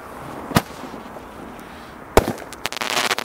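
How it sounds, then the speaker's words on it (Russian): Fireworks outdoors, two sharp booms about a second and a half apart, followed by a run of crackling bursts that stays fairly loud toward the end. No one talks. "Лев, сейчас будет еще один у нас салют."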